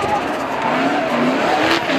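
Drift cars at a Formula Drift Japan event skid through a turn as tires squeal in a high, wavering screech over the steady roar of engines, loud and close for about two seconds.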